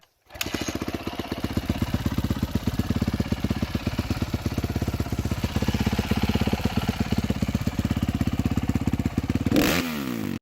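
A four-stroke motorcycle engine idles steadily with a low, even, chugging pulse, loud and close, holding a constant rhythm for about ten seconds before cutting off, with no voices.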